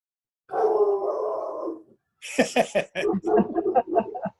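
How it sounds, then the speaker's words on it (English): A dog howls and barks close to the microphone during a city council meeting, first a sustained howl of about a second and a half, then a run of sharp, rapid barks. "It's my dog."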